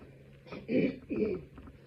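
A patient with a tracheostomy gives two short, muffled coughs close by, each a quick throaty burst, with quiet breathing noise around them.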